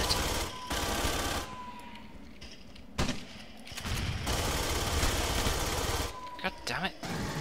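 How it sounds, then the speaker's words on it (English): Pulse rifle gunfire in Aliens: Colonial Marines multiplayer comes in several rapid bursts separated by brief pauses, loud and close, with a player talking over the shooting. "The pulse rifle is pretty terrible at long range, it has to be said."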